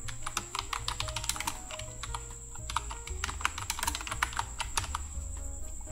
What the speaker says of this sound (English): If you want to show some specific data like a sponsor name or like anything, then you can type here.